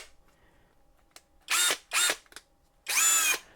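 Ozito PXC 18V cordless compact brushless drill driver spinning up in three short bursts, close and loud, with quiet pauses between and a faint low rattle before the first burst.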